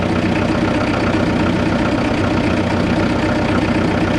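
An International B-275 tractor diesel idles after a blown glow plug was replaced, a steady, close, loud chugging knock that holds evenly throughout without any voices.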